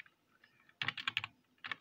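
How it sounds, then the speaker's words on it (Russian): Typing on a newly bought computer keyboard, heard as a quick burst of close, crisp key clicks, a pause, and then a few more keystrokes. "Это Эмиль купил себе клавиатуру за 2000"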